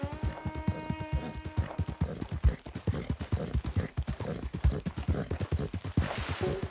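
A horse in the video game Red Dead Redemption 2 walks along with steady, rhythmic hoofbeats at moderate volume. A faint tonal hum sits under the first couple of seconds, and there is no talking.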